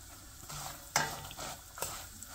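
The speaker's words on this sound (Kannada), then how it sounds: "ರವೆ ಹುರಿಬೇಕು." Semolina (rava) stirred as it roasts in a pan over medium heat while making uppittu, a soft dry scraping and faint sizzle with a few sharper clinks of the spoon against the pan, no talk.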